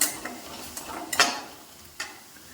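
Small shallots are stirred in a hot pan with a soft sizzle, and a spoon scrapes and taps the metal in a few light strokes, close by and with no talk.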